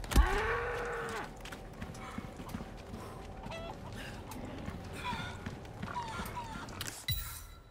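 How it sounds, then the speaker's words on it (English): A cow lowing in the game Resident Evil 4, a drawn-out moo opening the scene, followed by hoof clops and shuffling livestock noise with another loud burst near the end. "You're being a bad cow now. Calm down, cow."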